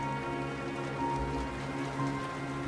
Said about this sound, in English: The rain continued to pour down on the desolate lands.